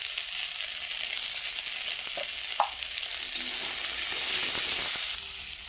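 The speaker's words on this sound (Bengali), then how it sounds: "কাঁঠালের বিচি হালকা ভাজা হয়ে গেছে" Jackfruit seeds lightly frying in a pan with a little salt and turmeric, a soft continuous sizzle with a couple of brief stirring scrapes, no voices.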